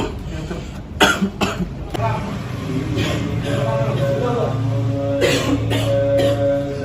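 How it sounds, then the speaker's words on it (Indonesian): A few harsh coughs near the start, close and loud, followed by a steady background of low talk and hum. "udah seminggu batuk mulu"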